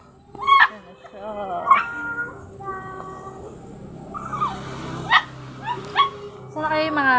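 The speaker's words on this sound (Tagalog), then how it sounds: "Yun na isang tuta." A puppy yips, barks and whimpers in short high-pitched bursts over several seconds, close by, while people talk over it.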